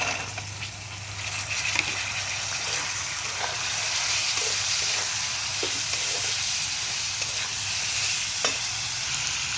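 Potatoes go into hot oil for bitter gourd fry with shrimp, giving a steady close sizzle and frying hiss with scattered scrapes and clinks of stirring throughout.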